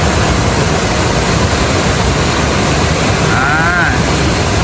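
Strongly flowing floodwater at Kong Kaeo waterfall, Khao Yai, after heavy rain, a loud, unbroken rushing roar, with a brief faint voice-like tone rising over it near the end.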